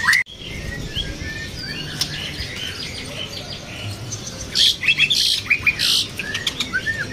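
White-rumped shama (murai batu), a caged songbird just finished moulting, sings in bright, fairly quiet chirps and trills over a steady background hiss, with a burst of sharper notes toward the end.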